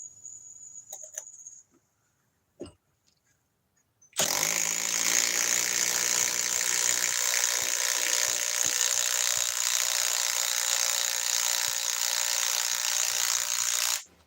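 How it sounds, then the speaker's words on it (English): A Milwaukee stubby power tool starts abruptly after a few quiet clicks and runs loud and steady for about ten seconds, a dense whirring, rattling mechanical drone that cuts off sharply. "let's move back to the stubby Milwaukee"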